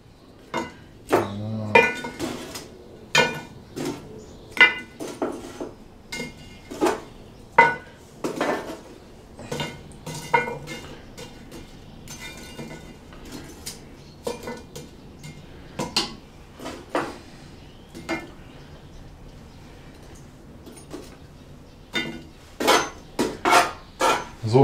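Cast-iron Dutch oven pot being set down and lumps of charcoal placed on its lid, a series of sharp metallic clanks and scraping knocks at an irregular pace, close and fairly quiet, with no talking.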